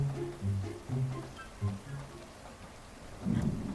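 Rain falls on a cold night while low thunder rumbles in several soft rolling bursts and a heavier rumble near the end, all fairly faint and distant, with no voices.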